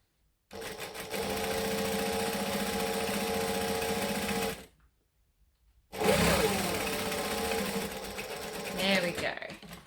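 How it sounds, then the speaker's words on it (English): A sewing machine basting a seam on a laptop sleeve, running steadily at close range for several seconds, pausing briefly, then whirring again with a slight rise in speed. "And we're going to stitch it. I'm going to baste it again down this side."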